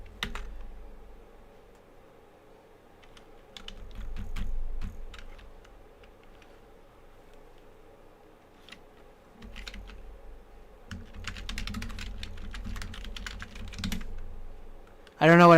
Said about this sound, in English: I'm just typing what you tell me to.